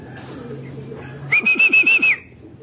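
A pigeon's clear whistling call, a rising tone with a quick series of pulsing notes, close and fairly loud over a quiet background.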